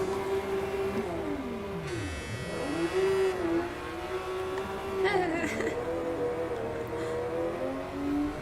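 Racing car engine in a video game, revving and whining through several rising and falling pitch sweeps as gears change, steady and close, with a brief higher buzz partway through.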